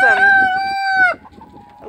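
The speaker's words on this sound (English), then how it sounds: "some Delaware hens, some well summer hens, Easter egger hens" A rooster crows loudly and close by in one long drawn-out call, followed by quieter clucking and soft murmurs from Delaware, Welsummer and Easter Egger hens in an A-frame coop.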